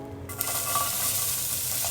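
A chopped yellow onion hits a hot pan for birria tacos, setting off a sudden steady hiss of sizzling that holds close and fairly loud, no speech.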